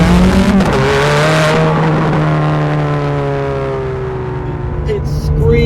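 Close and loud, a Ferrari F430 V8 supercar revs hard, its pitch climbing in a smooth, sustained rise with rich layered harmonics, followed by a brief crackle near the end.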